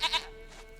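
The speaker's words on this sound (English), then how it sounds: "Well, I got your dumb goat back." A goat in the video game The Witcher 3 gives two quick bleats close by, each short and bright, followed by low game ambience with no talking.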